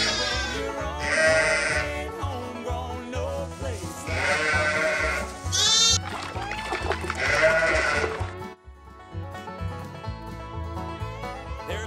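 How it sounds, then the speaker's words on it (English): A ewe that has just suffered a vaginal prolapse bleats loudly and repeatedly at 2 a.m. on a farm, her long wavering cries coming near and clear between short pauses. "not a very nice sheep."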